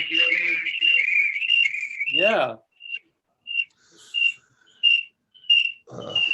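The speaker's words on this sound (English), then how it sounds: "That's a fire alarm." Repeated short high electronic chirps from a fire alarm in a room, several evenly spaced beeps sounding after a stretch of talk, with a voice partway through.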